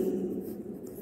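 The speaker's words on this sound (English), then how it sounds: "We are going to write now" Pen or pencil writing number names on paper, a brief steady scratching close by with no talk over it.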